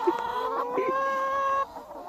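Steady, close free-range chicken vocalizing on pasture with a sustained tonal call and soft clucks, continuous for about a second and a half before easing off.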